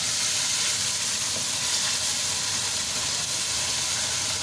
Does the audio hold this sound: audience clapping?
no